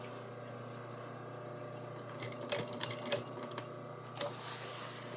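A sewing machine back stitching a pocket corner, a low steady motor hum with a few quiet bursts of rapid stitching, close and faint.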